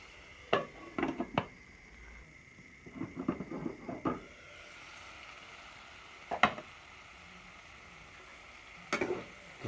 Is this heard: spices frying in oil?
yes